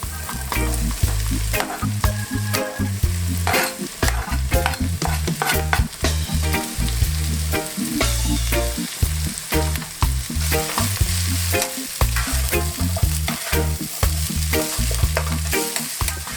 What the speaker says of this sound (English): And cabbage into the pan.